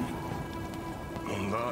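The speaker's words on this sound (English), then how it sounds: "Rain's pouring." Steady heavy rain in Cyberpunk 2077: Phantom Liberty patters and hisses on surfaces, with faint background tones and a low rumble.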